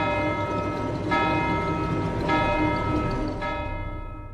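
A church bell tolls three slow, evenly spaced strokes, each ringing out with long shimmering overtones before the last one fades away.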